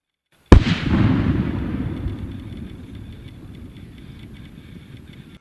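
A single loud blast from a set-off explosion cracks sharply after a moment of silence, then decays into a long rumbling, debris-filled tail that fades over several seconds.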